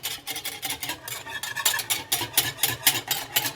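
A whisk beats a cornstarch mixture in a bowl to keep it free of lumps: quick, rhythmic scraping and clicking strokes, close and steady, repeating without pause.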